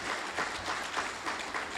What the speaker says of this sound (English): a round of applause for our lieutenants